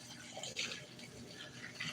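Water from cooked spaghetti pasta running and splashing as it drains off, a faint, brief liquid pour heard alone and fairly close.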